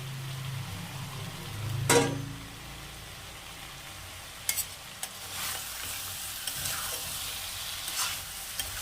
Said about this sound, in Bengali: আলুটা দিয়ে আবার একটু নেড়ে চেড়ে নেব